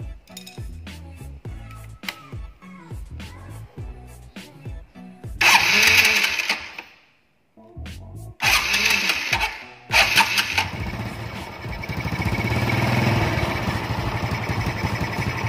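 A small carburetor engine, likely a motorcycle, starts and runs with a steady mid-pitched drone after some earlier mechanical clatter, briefly cutting out before restarting and settling into a continuous, moderately loud idle.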